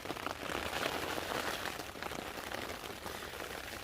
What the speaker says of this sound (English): this is one of those days where you just listen to the rain